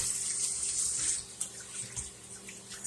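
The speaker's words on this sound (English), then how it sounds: "going to wash my hands a little bit" Tap water runs into a kitchen sink while hands are washed during chicken and dumpling prep, a steady hissing stream with small splashes and uneven patter as the hands move under it.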